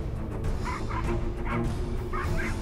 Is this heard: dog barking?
yes